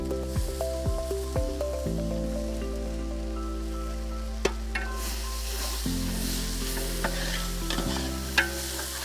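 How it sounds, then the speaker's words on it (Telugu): Chopped onions and ginger-garlic paste fry in hot oil for Kashmiri chicken curry, a continuous crackling sizzle broken by repeated stirring scrapes and occasional clinks, with a low steady hum beneath. "ఉల్లిపాయ ముక్కలు చక్కగా వేగాక దీంట్లోనే మనం అల్లం వెల్లుల్లి పేస్ట్ యాడ్ చేద్దాం"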